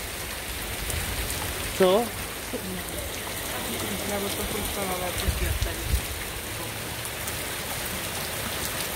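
Heavy, steady rain pouring down during a thunderstorm, with a dense wash throughout; people speak briefly beneath the downpour.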